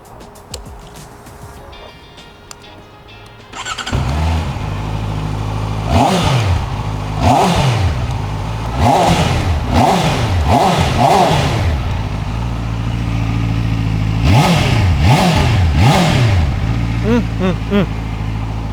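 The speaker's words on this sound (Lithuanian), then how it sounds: "Tikrai mėgaujuosi šio motociklo garsu." A QJMOTOR SRK800RR four-cylinder motorcycle idles after starting up, then is revved hard in a string of sharp, loud blips that rise and fall, close by and with no talking.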